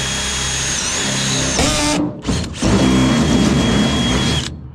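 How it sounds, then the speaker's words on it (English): A power drill whirs steadily with a high mechanical whine, pausing briefly for a moment before running again at full speed, loud and close. "then you're just going to drill down"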